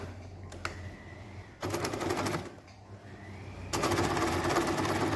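Sewing machine stitching down a quilted waistcoat, a rapid mechanical rattle in two close bursts with a quieter hum between, the second run steadier and continuing to the end.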